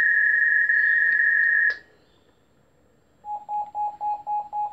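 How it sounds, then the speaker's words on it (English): Telephone line signalling on a telephone call system: a steady tone for under two seconds ending in a click, a short quiet gap, then a run of six rapid, evenly spaced beeping pips. "There's the pips, there's the confirmation, and there's the phone hanging up."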